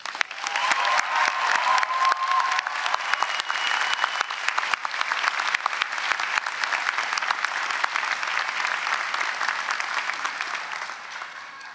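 Broad, sustained applause from a large audience at a master's degree commencement ceremony, crisp overlapping claps swelling quickly and continuing for over ten seconds before gradually thinning toward the end.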